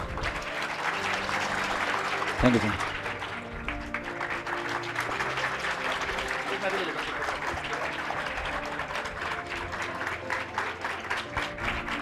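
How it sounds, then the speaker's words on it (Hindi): A talk-show audience breaks into loud, sustained applause for two science educators, a dense wash of clapping that runs throughout while someone speaks briefly over it. "तालियां बजाते रहिए, तालियां बजाते रहिए"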